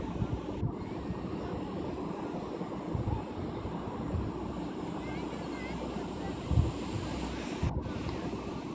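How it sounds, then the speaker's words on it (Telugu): Sea waves and wind on Kovalam beach near Chennai: a steady, broad wash of surf under gusty wind buffeting the microphone, continuous throughout, with no clear voices. "చల్లని గాలి, చుట్టూ సముద్రపు అలల శబ్దం"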